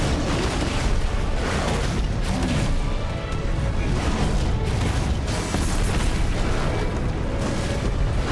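A loud, sustained booming roar from explosive attacks in the video game Final Fantasy XVI rumbles heavily and continuously, swelling in a few rolling bursts with no pause.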